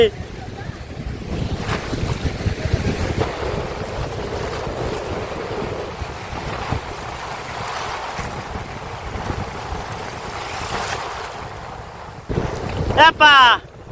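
Rough waves on the Matla River in the Sundarbans churn and splash under steady wind buffeting, with a boat engine-like rumble, close and continuous, ending in a few sharp bursts.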